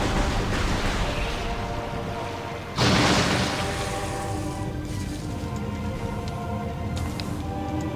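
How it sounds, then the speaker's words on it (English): Spore flowers exploding in Metroid Prime, a loud close burst near the three-second mark over a continuous rumbling game ambience, followed by fainter distant pops and clicks. "The spores ejected from the stigma at the center of the flower are sufficient to kill this creature if they explode in its vicinity."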